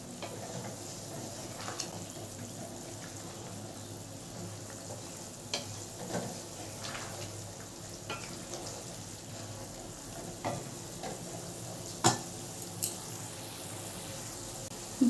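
Silver bele fish curry cooking in a pan just after water is added, a quiet continuous sizzle and bubbling with occasional light clinks and stirring taps scattered throughout, no voices.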